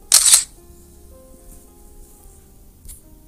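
A single crisp phone camera shutter click sounds close and loud at the start while taking a photo, followed by quiet room tone and a faint tick later.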